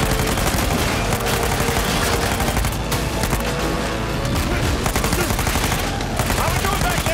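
Dense, continuous automatic gunfire aimed at motorbike tires during an Uncharted 4 vehicle chase, loud and unbroken over a roaring action backdrop, with a voice briefly audible beneath.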